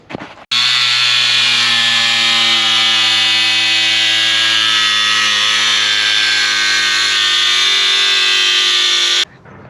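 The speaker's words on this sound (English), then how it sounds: "I have this cordless angle grinder with a cutoff wheel I'm going to use." A cordless angle grinder with a cutoff wheel cuts through a plastic bumper with a loud, sustained, high-pitched whine. It starts abruptly after a brief pause, holds for about nine seconds, then cuts off sharply.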